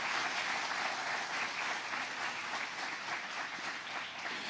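Church congregation applauding loudly and steadily, a sustained dense wash of clapping from a large crowd that holds its level throughout.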